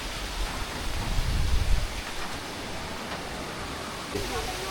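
A waterfall on a trek in Vietnam roars as a broad, steady rushing wash, fairly loud and continuous, with a brief swell of low rumble near the start.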